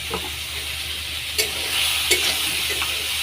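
Spices, salt and turmeric fry in a pan while being stirred, a steady bright sizzle broken by a few sharp scrapes of the spoon against the pan.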